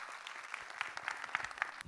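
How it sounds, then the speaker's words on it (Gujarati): An audience at a felicitation ceremony claps in steady, scattered applause, faint and somewhat distant. "give them a big clap"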